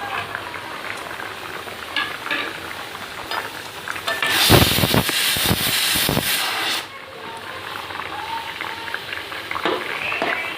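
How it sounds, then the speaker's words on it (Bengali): A pot of Bengali fish curry with lata fish, bori lentil dumplings, drumsticks and banana bubbles and sizzles steadily. The bubbling swells into a louder, vigorous burst midway before settling back to a simmer. "মাছ আর বড়ি দিয়ে আমি একটু ঝোলটা ফুটিয়ে নেব।"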